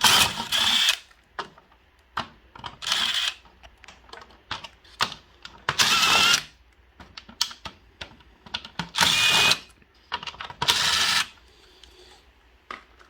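A power screwdriver removing the bottom screws of a Seville Classics tower fan, with repeated short bursts of whirring motor separated by clicks and handling noise, close up and without speech.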